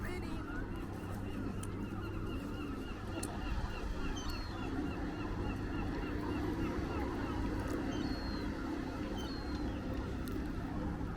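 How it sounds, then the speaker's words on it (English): Seabirds call out at Conwy, North Wales, scattered honking cries rising above a steady bed of outdoor wind and harbour noise, faint to moderate and somewhat distant. "Seagulls are enjoying some fish"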